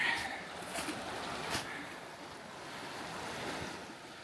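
Steady rushing of creek water at Crabtree Falls, a broad continuous wash with some wind buffeting the microphone, outdoors and fairly constant throughout.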